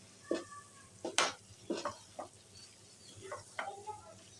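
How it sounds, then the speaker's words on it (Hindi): Spices cooked for a raw mango chutney are stirred in a pan, giving soft scraping and clinking strokes at an irregular pace over a faint sizzle, quiet and close. "सारे मसाले आपने इस तरह से मिक्स कर लेना"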